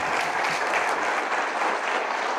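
Steady audience applause welcoming a speaker to the podium at a Get Home Safe Day press conference, a dense continuous clapping from a sizable crowd, no voices over it.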